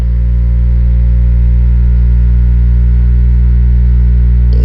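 A vacuum machine pulling air bubbles from acrylic paint drones with a loud, steady low hum that holds unchanged throughout, close and continuous with no talking.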